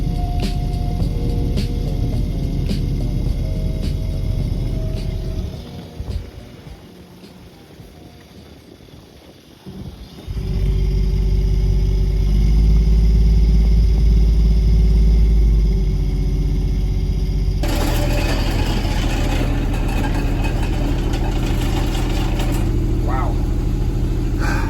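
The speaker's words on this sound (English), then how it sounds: "All right, so running the engine, like I said, to try and clean the fuel lines," A sailboat's engine runs to clear its fuel lines, a low, steady droning hum with vibration and wind noise. A voice talks over it, the pitch shifts midway and the engine grows louder and rougher.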